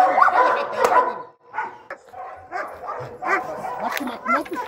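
A dog barks and yips repeatedly on a farm, heard at close range in short bursts amid people talking throughout.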